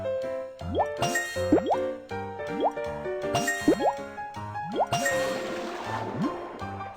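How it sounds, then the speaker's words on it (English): Water fills pipes in the Baby Panda fire truck mobile game as a run of cartoonish rising bloops and drips repeating over a light musical backing, ending in a splashier burst, bright and clear without speech. "Water is filled up."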